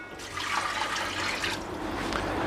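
Two cups of water poured into a cooking pot holding mutton for biryani, a steady splashing, rushing pour that continues for a couple of seconds at close range with no talking.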